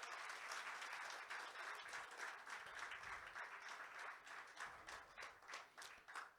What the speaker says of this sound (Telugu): గట్టి క్లాప్స్ గట్టిగా